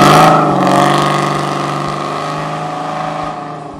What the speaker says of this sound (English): The Super 10 Muffler series are the smallest, and as you can probably tell, they're also the loudest.